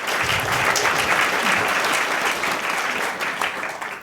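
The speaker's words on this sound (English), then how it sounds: "I might ask you to hold applause until the end, just in the sake of time" An audience at a panel discussion on the business of the brain breaks into loud, sustained applause, a thick wash of many hands clapping that holds steady for several seconds with no talk over it.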